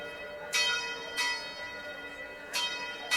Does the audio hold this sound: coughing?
no